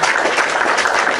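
Applause from a group of participants, a dense, even burst of many hands clapping, loud and continuous throughout the brief moment.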